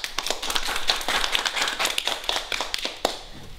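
An audience claps for a children's book author at a small library event, a dense, uneven patter of hands close by, with a few louder individual claps standing out near the end.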